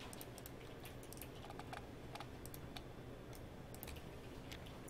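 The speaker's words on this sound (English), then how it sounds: "So I'm going to press spacebar." Soft clicks from a computer keyboard, including a spacebar press, tick faintly and irregularly over a steady low hum of room noise, with no talking.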